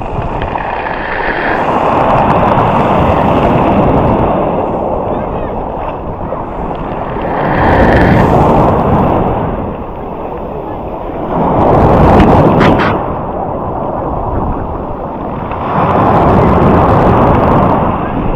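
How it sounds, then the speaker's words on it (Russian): Sea waves on Lazarevskoye beach in Sochi roll in and break close by in loud repeating surges roughly every five seconds, each wash swelling and receding under strong wind rumble. "Вот такие вот волны ловлю."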